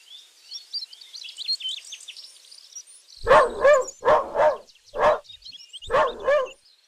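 Leo the dog, on a hiking trail near a campsite, lets out about six sharp, close barks in quick pairs, after a few seconds of light birdsong chirping in the background.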